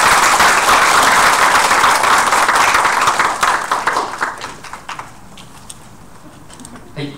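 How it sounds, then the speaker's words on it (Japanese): Loud, dense applause from an audience at a community project presentation event fills the room, then thins to scattered claps and fades out. "改めて大きな拍手をお願いします。"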